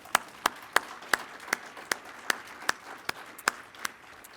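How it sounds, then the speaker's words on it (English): Audience applause for graduating PSEO students at a campus commencement ceremony: a steady series of sharp, evenly spaced claps, moderately loud and fairly close, with no talking over them. "Let's give all of those amazing PSEO students a round of applause"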